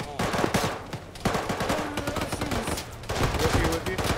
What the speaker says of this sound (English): Shooting through the fucking wall.